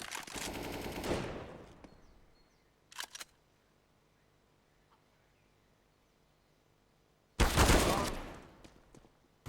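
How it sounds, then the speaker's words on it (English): Gunfire from a competitive shooter video game in an esports quarter-final match: a loud rapid burst at the start, a brief double crack around three seconds, then another heavy sustained volley near the end, with quiet stretches between. "Shots go either way, but eventually they favor Ago there."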